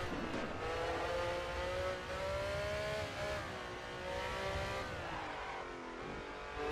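A car accelerating on the Circuit de Charade race track, a sustained engine note rising steadily in pitch as it pulls through the gears, heard from inside, with a sharp knock at the very end.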